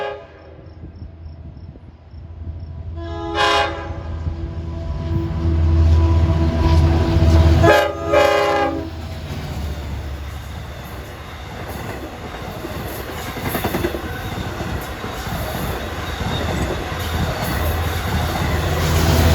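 A Long Island Rail Road Montauk branch train passes near Islip. It gives two loud horn blasts, then its heavy wheels and cars rumble and clatter past at close range, steadily and without a break.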